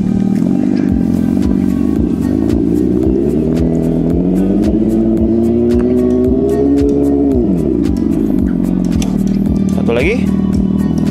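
Fiido electric bike fitted with a sound booster imitating a 1000cc motorcycle exhaust: a loud, continuous synthetic engine drone that rises in pitch as it revs, then drops back, with a short burst near the end.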